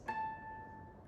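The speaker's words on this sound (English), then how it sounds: "we get a harmonic sound like this" A single guitar artificial harmonic, fretted and played, rings out as a pure, bell-like tone that sustains evenly and fades slowly, heard alone and close.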